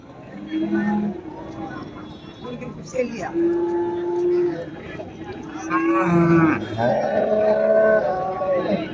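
Dairy cows that yield 20 to 40 litres of milk moo at a cattle market, several drawn-out, nearby moos one after another, over people talking and background chatter.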